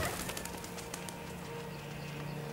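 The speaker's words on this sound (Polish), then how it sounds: "Nie strasz ptaków" Pigeons in the video game Detroit: Become Human give soft, low coos with occasional light wing flutters, faint over a steady ambient outdoor background.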